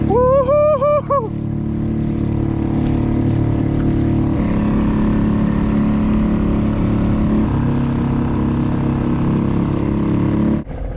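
Electric trolling motor pushing a fishing kayak flat out across the water, a steady loud droning hum with water rush throughout, after a brief excited whoop at the start.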